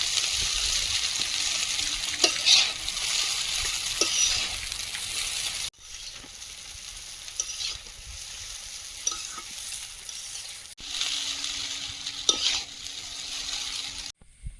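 Chicken chowmein noodles with salt are stirred and fried in a pan for a village-style recipe, giving a steady close sizzle with spatula scrapes that dips twice after brief pauses.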